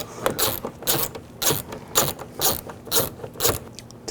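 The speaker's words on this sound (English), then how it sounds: "Use a 7mm socket to get that one out." A 7 mm socket wrench ratchets a bolt out of a Chevy Tahoe door, with evenly spaced bursts of close, crisp clicking about every half second.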